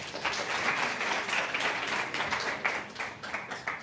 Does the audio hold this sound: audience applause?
yes